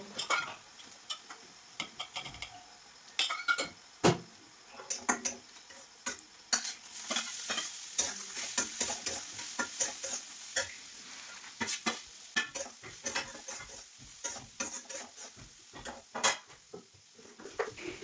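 Garlic and onion fry with radish pods in a pan, a steady sizzle broken by frequent sharp scrapes and clinks of a spoon stirring against the metal, close and busy throughout with no talking.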